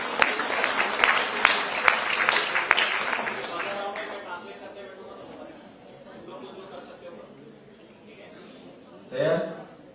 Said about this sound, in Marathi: टाळ्या वाजवूया।